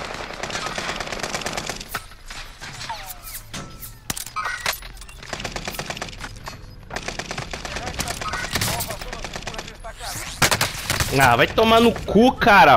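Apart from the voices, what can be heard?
rifle and sniper gunfire in video game Call of Duty: Modern Warfare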